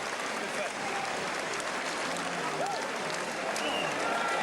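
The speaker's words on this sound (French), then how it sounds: "l'acclamation du Palais des Sports de la Porte de Versailles" Boxing crowd at the Palais des Sports de la Porte de Versailles in Paris cheering and applauding after a title defence, a steady wash of distant clapping and roar with faint whistles.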